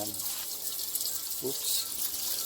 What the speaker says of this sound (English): And then we have a water feature